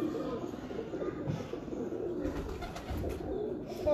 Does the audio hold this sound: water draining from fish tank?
no